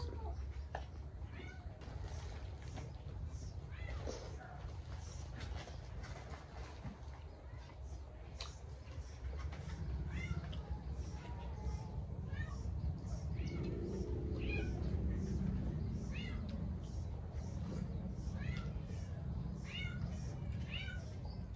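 A cat meows repeatedly in short, fairly close calls over a constant low rumble, the cries spaced irregularly throughout.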